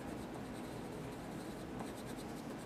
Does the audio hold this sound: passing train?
no